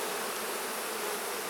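Hundreds of honey bees swarm over a hive frame during a mite count, a dense continuous buzzing hum, close and steady throughout.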